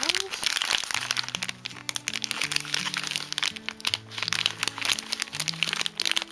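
A plastic blind bag is cut open with a small incision and worked around, giving close, crisp crinkling and crackling throughout while a voice speaks over it.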